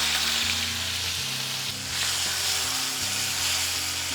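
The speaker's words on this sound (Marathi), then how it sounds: "गॅस लहान करूयात आणि लसूण आणि मिरची पण घालून घेऊ." Ground garlic and chilli frying in a generous amount of hot oil over low gas, a dense, even crackling sizzle heard close and steady throughout, without speech.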